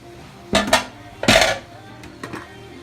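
A spoon scrapes and knocks against a pot while garlic, jalapenos and parsley are stirred for a leek dish, two bursts of metallic clatter followed by lighter taps, close and without talk.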